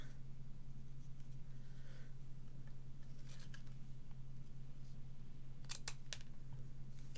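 Scissors snipping through paper or card in a crafting session, a few small, quiet crisp cuts clustered near the end over a steady low electrical hum.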